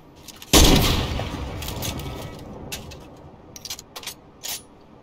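A single loud gunshot rings out in a battle royale video game, its sharp crack followed by a decaying tail, with a few smaller bursts and clicks trailing afterward.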